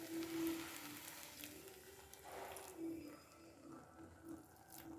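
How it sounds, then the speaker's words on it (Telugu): Hot water poured into a hot, scorching pan on a home stove, giving a soft, steady sizzle and watery hiss with faint drips, fairly quiet and close, with no talk. "సో ఇప్పుడు వేడి నీళ్ళు వేస్తున్నాను అనమాట."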